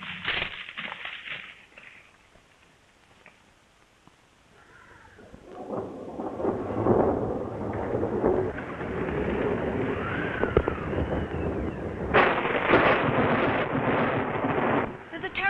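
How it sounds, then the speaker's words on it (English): A thunderstorm from an old adventure film serial: deep rolling thunder and a steady rush of rain and wind swell up and stay loud, heard under and between lines of dialogue from actors. "There's a terrible storm coming up, Tom."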